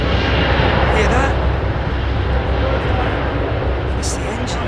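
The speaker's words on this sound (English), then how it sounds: "that sort of vibration noise on spoiler" Airliner engine noise with a steady low rumble and vibration, heard close and loud throughout from an aircraft at Heathrow Airport, likely an Airbus A350, with broadband roar and no clear breaks.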